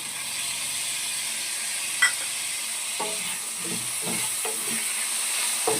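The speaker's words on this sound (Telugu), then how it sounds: "ఇప్పుడు టమోటాలు వేసుకుందాం కట్ చేసుకున్న టమాటా ముక్కలు" Chopped tomatoes fry in a pan for a chicken curry, giving a continuous, even sizzle with several scraping stirs of a spatula against the pan partway through.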